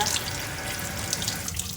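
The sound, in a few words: cold tap water running over strawberries in a colander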